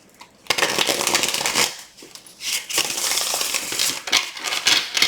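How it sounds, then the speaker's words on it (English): A deck of tarot cards shuffled by hand, with rapid riffling and slapping bursts coming in several close, loud waves separated by brief pauses, with no talking. "Ooh, I love the way this deck shuffles."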